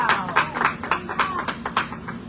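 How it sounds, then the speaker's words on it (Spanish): Congregation members at a church service clap in a short burst of irregular, fairly close hand claps with some tonal ringing underneath and no talk. "Un aplauso al Señor."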